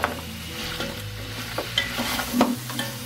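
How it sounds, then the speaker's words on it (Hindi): Nihari meat stirred in a cooking pot after salt goes in, a few close scraping strokes with a faint sizzle underneath, no voices. "थोड़ा सा चलाऊंगी।"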